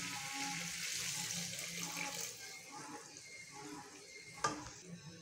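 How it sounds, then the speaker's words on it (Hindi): Water pours in a steady rush into a pot of chickpea chicken curry on the stove, continuing for several seconds, with a soft clunk near the end. "तो अब हम लोग इसके अंदर इसमें पानी डालने लगे हैं"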